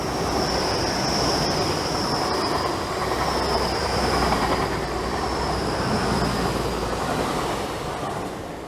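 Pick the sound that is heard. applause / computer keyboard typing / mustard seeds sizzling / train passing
train passing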